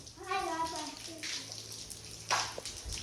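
Water splashes out in short pours onto a floor, with a voice talking briefly at the start.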